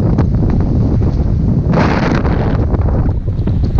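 Strong 25-knot wind at sea buffets a sailboat, a loud continuous roaring rush with gusty surges and heavy microphone buffeting.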